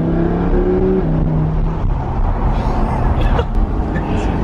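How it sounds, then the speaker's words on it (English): Lamborghini engine roaring and revving close by, a deep, loud, steady drone with rising pitch as it accelerates. "It actually just sounds like a race car."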